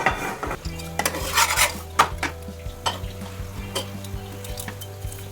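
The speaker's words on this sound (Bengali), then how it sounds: "এটা আমি তাওয়ার মধ্যে দিয়ে দিলাম দিয়ে এটা আমি এবারে ভেজে নেব" An aloo paratha cooking on a hot tawa, with intermittent clinks and scrapes of a utensil against the pan over a steady low hum, and only a faint sizzle.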